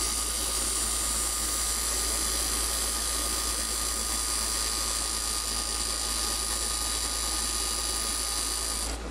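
Wood lathe spinning steadily while a tool shaves sawdust from a small chess pawn blank, a continuous high whine with dense broadband hiss, loud and close for the whole stretch with no talking.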